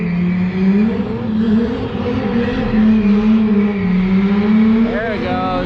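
Toyota drift car launching hard and accelerating, the engine note rising and shifting as it pulls away, with people talking nearby.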